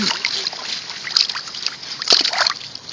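A hand dips briefly into a murky pond, giving a few light splashes and sloshes close by, with soft outdoor background noise and no talking.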